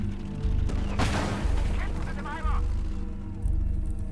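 Heavy booms of artillery fire in the World War II strategy game Gates of Hell, spaced about a second apart under a steady rumble, with someone talking over them.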